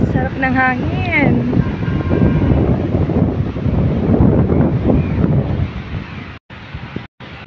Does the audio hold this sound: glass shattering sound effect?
no